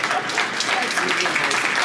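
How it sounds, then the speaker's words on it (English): Audience at a Spring Meetings conference session on financing sustainable supply chains breaks into applause, a dense, even wash of clapping lasting the whole short moment, fairly close and loud. "So I want us to stop and give a round of applause to Dr. Ngozi for that."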